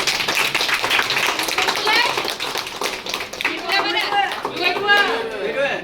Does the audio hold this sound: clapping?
yes